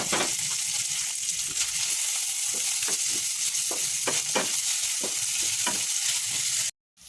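Chili, shrimp paste and smoked fish sautéing in a pan for binurong santol in coconut milk, giving a constant close sizzle broken by repeated stirring clicks and scrapes, cutting off abruptly near the end.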